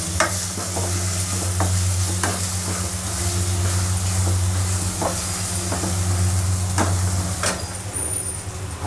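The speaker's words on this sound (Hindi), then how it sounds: "चलाते हुए हम अपने प्याज को अच्छे से भून लेंगे।" Steady frying sizzle of onion with ginger-garlic paste and ground green chilli, with occasional sharp stirring scrapes of a utensil in a pan, continuous and close throughout.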